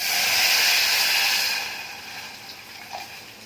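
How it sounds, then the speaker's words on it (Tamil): Water pours into a cooking pot holding coriander, curry leaves, salt and onion and begins to heat, a loud steady hiss and rush that eases after about a second and a half into a softer simmer with no talk. "இதை ஊற்றி தண்ணி ஊற்றி கொதிக்கணும்."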